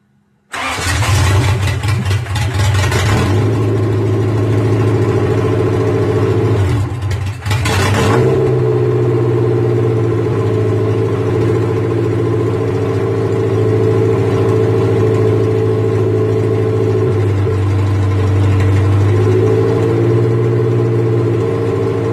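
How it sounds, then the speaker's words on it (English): A Honda Civic EJ1 with an open 1320 Performances header cranks and fires loudly up close, then settles into a raw, rumbling idle that dips briefly and steadies, continuing loud and alone. "Let me know down in the comments below how you like that open header sound."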